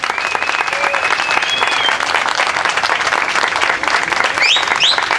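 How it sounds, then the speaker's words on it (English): Loud, dense applause from a crowd at an outdoor official ceremony honoring a choir, sustained rippling clapping across several seconds with a few faint whistles and cheers riding on top. "Please give them a round of applause."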